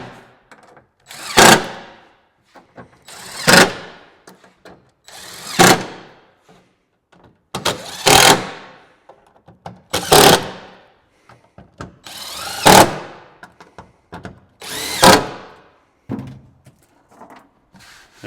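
Bolts are run in on a Jeep Gladiator tailgate while fitting a SnailArmor cover, heard as about seven short, loud power-driver bursts spaced a couple of seconds apart, with quiet clinks and handling noise between them.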